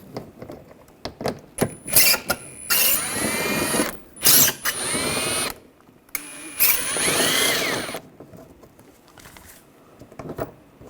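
A power tool fitted with an 8mm socket whirs in several short bursts of varying length, backing out screws on a 2013-2016 Dodge Dart front bumper and grille area, close and loud, with pauses between runs.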